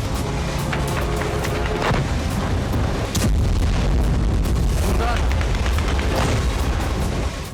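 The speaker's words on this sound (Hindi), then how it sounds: "कजान की शीशे वाली चमचमाती इमारत से यूक्रेन का ड्रोन टकराया और जोरदार धमाका होते ही आग लग गई।" A Ukrainian drone strikes a glass-fronted high-rise residential building in Kazan, and a heavy explosion booms out, followed by sustained loud rumbling and crackling noise with distant crowd sounds.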